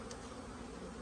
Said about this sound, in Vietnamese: Còn đây con ong về thực tế là quay con ong nó nha